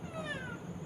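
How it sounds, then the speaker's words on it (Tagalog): A pet cat gives one short, drawn-out meow, close and fairly soft, in a quiet room. "Meow. Meow. Meow."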